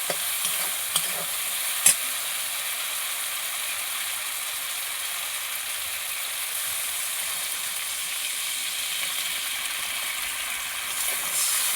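Water poured onto spice paste frying for a pangas fish curry produces a steady, even hiss of simmering and sizzling throughout, with a couple of brief clicks near the start and no speech.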